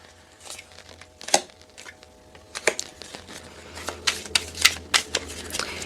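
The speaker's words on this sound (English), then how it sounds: "I'm going to keep on doing my shuffling" Tarot cards being shuffled in quick, irregular riffling bursts that grow busier toward the end, close to the listener, with a faint low hum underneath.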